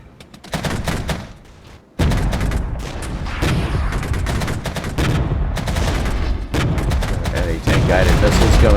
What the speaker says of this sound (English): Anti-tank guided missiles going in on the T-80s.